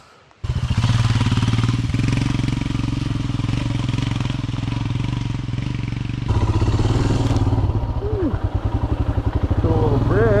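A Royal Enfield Himalayan single-cylinder motorcycle fires up and chugs along a Montana singletrack trail, loud and close with a throbbing thump and rattling clatter, revs rising and falling; a voice speaks over it.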